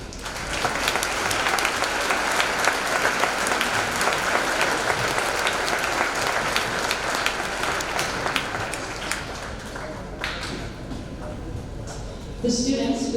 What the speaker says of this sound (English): I would invite these students to please stand and receive a round of applause